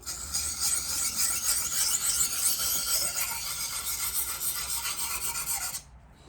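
A knife blade is worked steadily across a sharpening stone, giving a continuous close gritty rasping scrape that runs for about six seconds and then stops abruptly.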